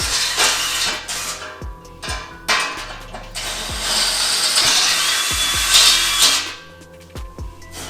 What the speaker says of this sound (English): I'm going to take this drill here and drill them out a little bit